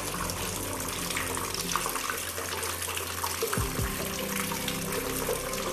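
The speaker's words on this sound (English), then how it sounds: "this is the lowest speed, and it is still enough water for every pot" Water from an irrigation setup set to its lowest flow streams steadily onto plant pots, a continuous close hiss and patter like a running tap, with a low hum beneath.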